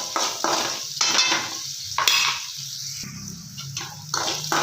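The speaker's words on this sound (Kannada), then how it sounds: "ಇದು ಸ್ವಲ್ಪ ಕಲರ್ ಬರುವವರೆಗೆ ಕೆಡಿಸ್ಬೇಕು" Potatoes frying in oil for potato palya are stirred in a pan, with scraping and clinking spoon strokes in short bursts over a soft sizzle, close by and without speech.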